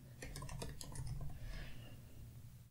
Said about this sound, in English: now I can type in the word that I want.